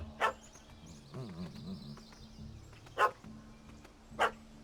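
A dog barks in The Witcher 3, three short sharp barks spaced a second or more apart against a low game ambience with some faint creature sounds in between.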